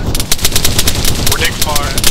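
Rapid automatic gunfire in the military shooter game Arma 3, a dense loud burst of evenly spaced shots rattling throughout with a voice talking under it.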